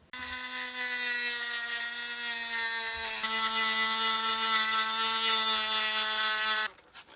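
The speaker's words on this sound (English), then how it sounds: "we need to get in there with the Dremel and clean this around so we'll be able to have a clean surface to tack to" A Dremel rotary tool grinds and cleans a steel Jeep spring plate, giving a loud, steady high-pitched whine that holds for about six and a half seconds before cutting off abruptly.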